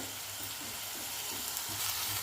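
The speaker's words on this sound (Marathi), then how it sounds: "कांद्याची पेस्ट भाजताना घाई करू नका थोडं कमी गॅसवर छान व्यवस्थित भाजला ना कांदा" Onion paste with curry leaves frying in a pan over low heat gives a soft, steady sizzle with faint crackle, quiet and close, no voices.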